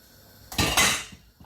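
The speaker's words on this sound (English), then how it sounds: "you give it a stir" A metal spoon scrapes and knocks twice against a pot while stirring rice and peas, two quick close clanks over quiet background.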